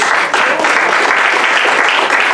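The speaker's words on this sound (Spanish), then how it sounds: "Dale un aplauso fuerte a Jesús" A Spanish-speaking church congregation bursts into loud applause for Jesus during a service. The clapping is close, dense and unbroken from start to finish.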